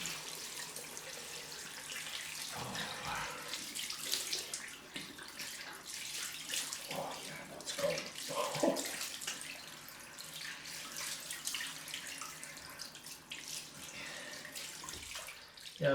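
Tap water running steadily into a sink for a cold rinse after a head shave, a continuous close splashing flow with small shifts in the stream and no talking.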